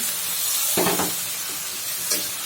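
Spices sauté in a pan for a chicken and bottle gourd curry as a splash of broth goes in, raising a loud, close sizzle and hiss with a couple of brief bursts of sputtering.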